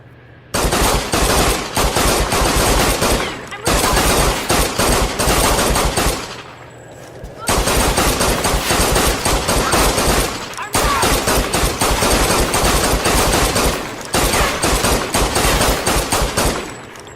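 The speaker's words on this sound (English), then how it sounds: "shoot your Silver Baller as fast as you possibly can" Rapid bursts of Silver Baller pistol fire in the Tomb Raider video game on PS4, loud sustained volleys in several runs broken by brief pauses, with no talk over them.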